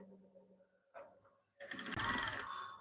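Sewing machine stitching a jacket top, a dense mechanical whir that starts after some quieter handling noises and runs loud and close for about a second.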